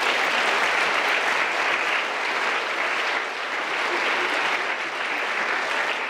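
A large audience at a lecture gives a big round of applause, a dense, loud, continuous wash of clapping that stays steady from start to finish with no talking over it.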